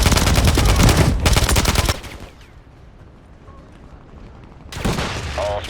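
Rapid automatic gunfire from the Modern Warfare 3 video game, loud and dense for two seconds, then a quieter stretch of distant ambience before another heavy burst of sustained shooting.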